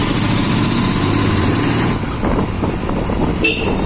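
A Royal Enfield GT 650 motorcycle with a twin parallel engine being ridden, a loud steady engine drone that eases off partway through, then continues at a rougher, lower level with a brief sharp tone near the end.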